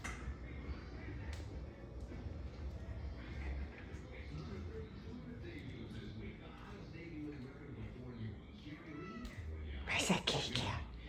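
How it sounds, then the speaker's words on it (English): A pet cat meows indoors in a home, the calls mixed into steady household noise and talk, with a louder burst of sound near the end. "What's that kitty cat meowing about?"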